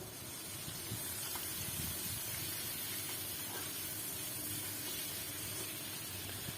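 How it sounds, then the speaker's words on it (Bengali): Shrimp fry in hot mustard oil in a kadai, giving a steady, even hiss and spatter that holds without a break, close but fairly quiet, with no talking. "কড়াইতে সর্ষের তেল গরম করে চিংড়ি মাছটা আগে ভেজে নেব।"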